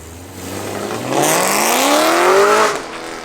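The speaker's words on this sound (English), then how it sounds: "So we're gonna get some in-cabin sound tests for the Valvetronic exhaust" A 2013 BMW E92 M3 with a six-speed manual, ZCP package and Valvetronic exhaust revs hard as heard from inside the cabin, the engine note climbing steadily in pitch to a loud peak before dropping off.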